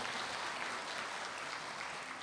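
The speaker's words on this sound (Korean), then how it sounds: "큰 박수로 맞아 주시기 바랍니다." Church congregation applauding to welcome children coming forward at a Korean Sunday service, a steady soft wash of many hands clapping, fairly distant and even throughout.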